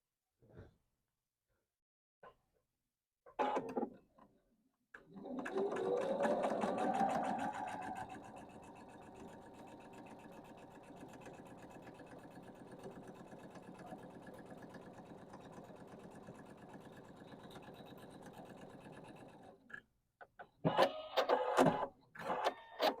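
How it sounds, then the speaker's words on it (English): A sewing machine runs a quarter-inch seam along a marked line on a quilt block, with a steady, close mechanical hum that lasts several seconds, framed by brief handling clicks before and after. "Using my 1/4 inch stitch, I am going to sew on either side of this line."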